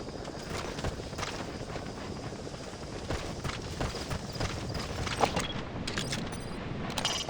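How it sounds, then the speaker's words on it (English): Hooves of Karakul sheep clop and shuffle steadily on the ground, with dense overlapping footfalls under a continuous outdoor background noise and no voices. "That's a Caracal sheep."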